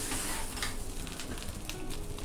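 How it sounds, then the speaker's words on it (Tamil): An egg fries in oil in a small metal tempering ladle, giving a soft, close, continuous sizzle with faint crackles and no talk. "இந்த கரண்டி முட்டை ட்ரை பண்ணி பாருங்கள்."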